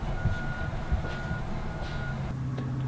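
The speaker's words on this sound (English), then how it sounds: "Guess who's back? Trash truck." A reversing trash truck beeps steadily over a constant rumbling engine, nearby and continuous, with no voices.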